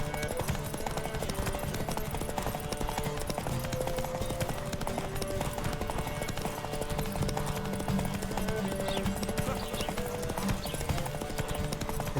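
A horse gallops in The Witcher 3 video game, with steady rapid hoofbeats running loud and unbroken under layered game sound throughout.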